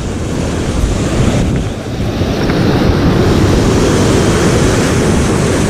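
Ocean surf breaks on a shoreline during a long set of waves, a loud, continuous roar with heavy wind buffeting the microphone throughout.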